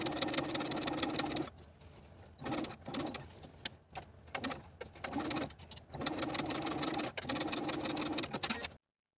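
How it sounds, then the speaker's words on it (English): Sewing machine stitching a continuous lap along an original stitching line on a dress, heard close in several bursts of steady whirring separated by brief pauses, ending abruptly. "Then we'll sew the continuous lap in place, sewing right along that original stitching line"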